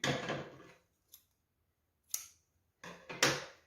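Scissors snip through an extra fabric edge while a full circle skirt is being sewn, giving a few close, crisp cuts separated by short silences and no talking.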